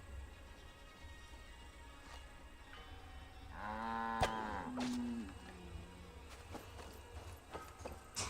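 Cattle in the video game Assassin's Creed Valhalla give a single drawn-out, low moo that rises and falls over about two seconds, set against a steady ambient game soundscape with a few soft thuds.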